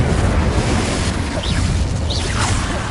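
Incendio fire spell in Hogwarts Legacy, a loud, dense roaring rush of flame-like noise that stays constant, with a couple of faint whooshing swirls passing over it.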